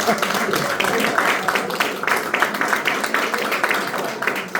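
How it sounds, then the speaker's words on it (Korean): An audience at a lecture forum applauds with dense, continuous clapping throughout. Voices and chatter are mixed in beneath the applause. "박수 좀 한번 쳐주세요"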